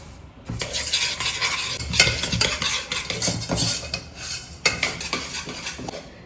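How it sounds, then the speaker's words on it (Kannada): Moong dal being roasted in a spoonful of ghee in a pan, with steady, dense scraping and stirring of the dry lentils against the metal, close and loud, continuous with rhythmic strokes. "ರೋಸ್ಟ್ ಮಾಡ್ಕೊಳ್ಳೋಕ್ಕೆ ಒಂದು ಸ್ಪೂನ್ ತುಪ್ಪ ಹಾಕೊಂಡಿದ್ದೀನಿ ಅದಾದಮೇಲೆ ಹೆಸರು ಬೇಳೆ ಹಾಕ್ತಾ ಇದ್ದೀನಿ"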